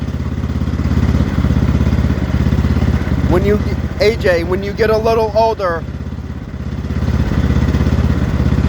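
The engine of an X T1 Enduro Series garden tractor runs steadily nearby with a loud, even mid-pitched chug, while someone speaks over it for a few seconds.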